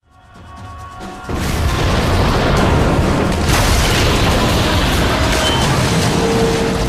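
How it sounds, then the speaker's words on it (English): A grenade explodes in an action movie, a sudden loud blast about a second in that turns into a sustained, heavy roaring rumble which fills the rest of the scene. "Grenade! Down!"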